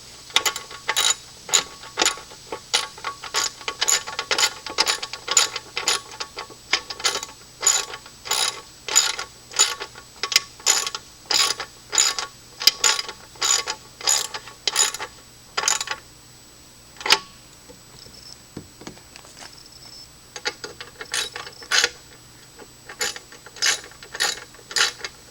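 Ratchet wrench with a half-inch socket clicking on a 1974 Mercury 20 HP outboard motor, close and alone, in long runs of rapid clicks broken by brief pauses.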